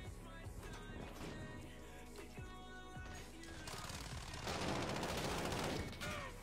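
Gunfire in a first-person shooter video game, with rapid automatic bursts and crackling shots close and fairly loud, the volume swelling near the end.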